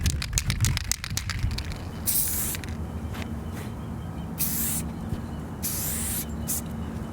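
Short hissing bursts of white spray paint from a Montana can fitted with the stock fat cap, three separate sprays over a low, steady background noise, close and fairly quiet.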